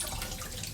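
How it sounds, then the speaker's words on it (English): Tap water runs at a kitchen sink, rinsing sticky, buttery cookie dough off someone's hands in a short, steady splashing wash. "rinse my hands."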